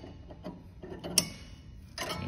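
Metal arbor nut on a table saw clicks and scrapes as it is twisted back onto the threaded shaft, a series of small, close ticks and rattles with one sharp metallic tink.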